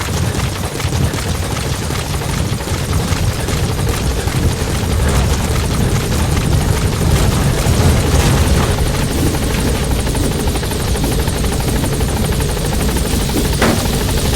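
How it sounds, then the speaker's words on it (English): A support helicopter arrives in Metal Gear Solid V: The Phantom Pain, its loud, steady rotor thump and engine roar filling the scene throughout with brief sharp bursts that sound like gunfire. "Support helicopter has arrived."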